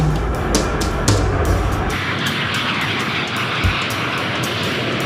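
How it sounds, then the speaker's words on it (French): Concorde, the supersonic airliner, roars overhead on its first flight in March 1969, a loud, steady broadband jet rumble with no talking. "premier vol du Concorde, le seul avion de ligne supersonique de l'histoire"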